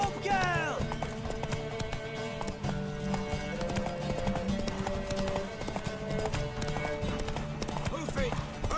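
Horse hooves in The Witcher 3: Wild Hunt clatter in a fast, rhythmic gallop with a brief whinny, mixed with game music, and voices speak over the hoofbeats.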